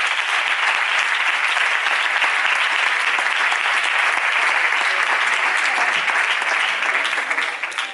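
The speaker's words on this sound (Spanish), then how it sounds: "damos el mejor aplauso que tengamos a la palabra del Señor" A church congregation breaks into loud, sustained applause, a dense wash of many hands clapping steadily for several seconds before tapering slightly at the end.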